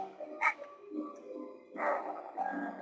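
A dog in the video game Megaman Legends barks a few times: one sharp yelp early on, then a longer burst of barking later, over steady game background sound.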